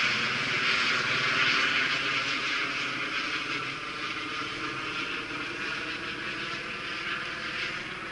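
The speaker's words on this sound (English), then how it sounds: "Maybe that's the Google chopper." A helicopter flies overhead, its loud, steady rotor and engine drone filling the whole stretch and easing slightly as it passes, with no talking.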